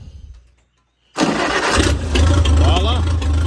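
A Farmall 100 tractor engine cranks after a brief quiet, catches abruptly and settles into a loud, steady, rumbling run close by.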